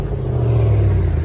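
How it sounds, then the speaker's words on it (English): A RAM Power Wagon's 6.4L Hemi V8 with a muffler delete holds a loud, deep, steady exhaust rumble up close for about a second, no voices over it. "POWERWAGON, just a muffler delete."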